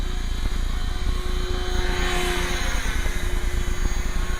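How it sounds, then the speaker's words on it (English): A large, smooth helicopter flying overhead, a steady broad rotor-and-engine drone with a faint sustained whine, constant and moderately loud throughout. "it's a smooth helicopter"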